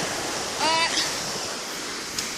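Rushing surf and wave wash roll steadily, with a brief voice-like tone passing over the top.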